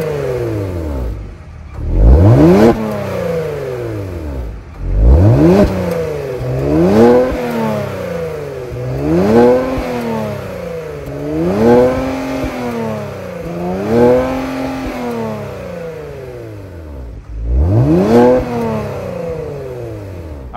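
The 3.3-liter twin-turbo V6 of a 2023 Kia Stinger GT revs repeatedly from idle. Loud, close engine sweeps climb and fall in steady waves through the quad exhaust, with several sharp blips and brief drops back to a rumbling idle.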